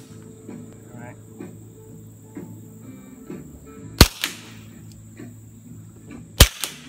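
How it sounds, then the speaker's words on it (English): Two sharp, loud cracks from a suppressed 9mm handgun, about two and a half seconds apart, ring out over faint background voices outdoors. "This is a 9mm with a suppressor on it."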